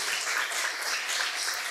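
Congregation applauding in church, a steady dense wash of many hands clapping together throughout, with no break or voices standing out.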